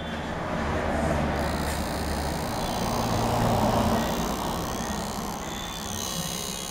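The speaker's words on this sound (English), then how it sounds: "the fan is on and I'm gonna show you how the noise is being generated" A noisy laptop fan spinning, a constant broadband whooshing hum close to the microphone, steady throughout with a slight swell in the middle.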